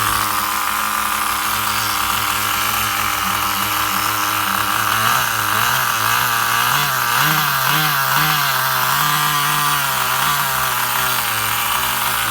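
A Duratrax Overdrive ST 4WD nitro RC truck engine idles loudly and steadily, its buzzing note wavering slightly in pitch throughout with no talk over it.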